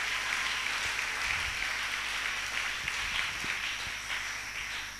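A church congregation claps and cheers in a steady, dense wash of applause with scattered low thumps, sustained throughout and fading slightly at the end.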